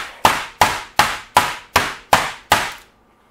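Steak meat for a cheese steak sandwich gets pounded thin with a mallet: seven sharp, loud, evenly spaced thuds about a third of a second apart, each ringing briefly before fading to silence.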